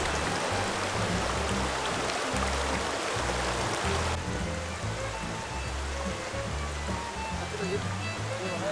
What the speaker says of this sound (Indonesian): Air sungai.